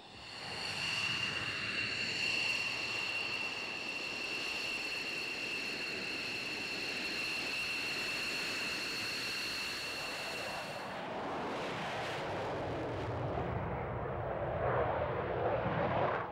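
A military aircraft taxiing out at an air force base gives a steady, loud engine roar with a high whine for about eleven seconds, then the tone shifts to a broader rushing roar as it moves off.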